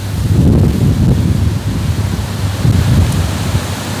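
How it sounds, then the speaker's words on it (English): Wind gusts outdoors on a day with falling leaves, a loud, rumbling buffet across the microphone that surges and eases in uneven waves without a break. "I'm sorry, it's kind of windy today."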